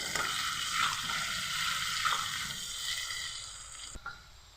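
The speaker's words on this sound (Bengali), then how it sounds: "ভালো করে আলুগুলোকে ভেজে নেব।" Potatoes fry in a pan with turmeric and salt, a steady close sizzle with occasional scraping stirs and a brief clatter near the end.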